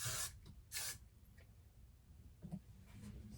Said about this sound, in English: now I'm going to use the Got To Be Blast and Free Spray in my hair